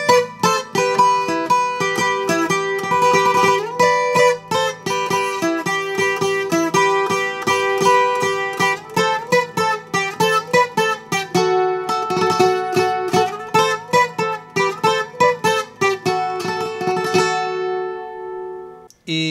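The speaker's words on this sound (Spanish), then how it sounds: "Y este requinto se repite básicamente dos veces, entonces suena así." Acoustic guitar picking a requinto lead riff, a quick run of bright single notes repeated twice, played alone and close, ending with a brief pause.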